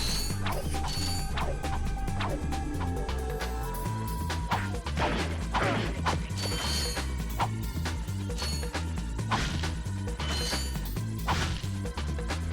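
Wrench strikes in the Ratchet & Clank video game, a steady run of sharp metallic whacks and crashes with clanking, ratcheting mechanism sounds over a constant game soundtrack.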